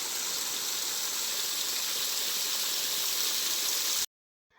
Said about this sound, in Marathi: रानात पाईप जोडून मोकळ्यात पाणी सोडलं